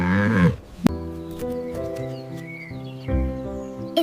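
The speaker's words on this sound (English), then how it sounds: "It's a horse." A horse neighs in a long, wavering whinny with harmonic tones rising and falling, followed by a short snort and a few more breathy calls, close and clear.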